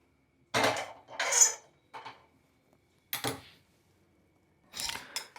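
A frying pan set down on a stove, heard as several separate metallic clanks and bumps with quiet gaps between them, close and clear with no voices.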